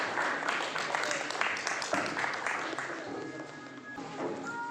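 Audience applause welcoming guests at a school education function, a dense steady patter of many hands that carries on and gradually thins, with faint voices beneath it.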